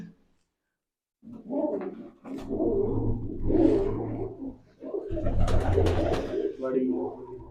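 Low coos and soft throaty calls of racing pigeons close by, repeating in bursts against a quiet background.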